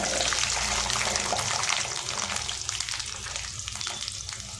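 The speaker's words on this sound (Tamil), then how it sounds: "இப்போ சிறிது அளவுக்கு நம்ம எண்ணெயில் வதக்கிக்கலாம்" Small shallots frying in hot oil with curry leaves for a dry fish curry, a loud, dense, continuous sizzle close by with no talking.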